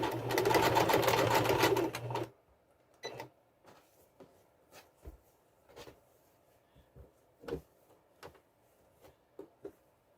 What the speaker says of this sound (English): We're going to stitch down the sides of the strip